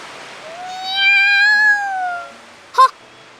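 A black cat in the Grisaia no Kajitsu visual novel lets out one long, rising and falling meow, clear and close, followed by a short chirping sound near the end.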